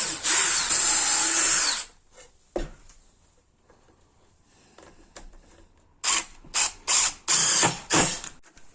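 A drill drives self-tapping screws into wood. One long whirring run comes first, then a single short burst, and later several quick pulses in a row, all close and loud, with no talk.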